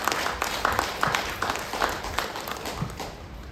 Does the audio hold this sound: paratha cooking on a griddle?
no